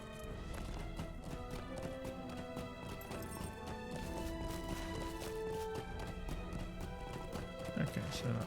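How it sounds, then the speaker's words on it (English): Rhythmic hoofbeats of a galloping horse in the video game Lord of the Rings Online, over a steady musical backdrop, with a brief whinny and some game-like effects near the end. "let's get on the horse"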